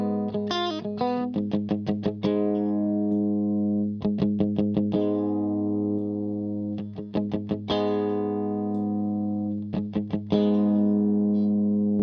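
Electric guitar played through a CKK Gears Compressor pedal set to a light bass cut, strumming sustained chords punctuated by bursts of quick rhythmic strums, evenly loud and close with no talking.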